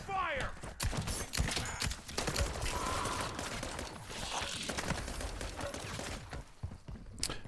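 Gunfire in a Call of Duty game around urban buildings: repeated sharp shots and bursts at moderate level through a busy battle din, with someone talking in between.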